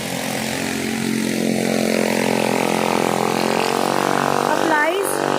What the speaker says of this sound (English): That scooter is so noisy.